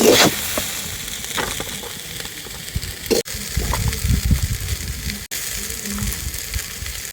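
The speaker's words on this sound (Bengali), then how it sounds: "এইভাবে নাড়াচাড়া করে কিন্তু 5 মিনিট মতন ভেজে নিয়েছি" Food is stir-fried with soy sauce in a pan for a roti-based dish: a steady hiss of frying runs throughout, with scraping and stirring knocks, moderately loud and without talking.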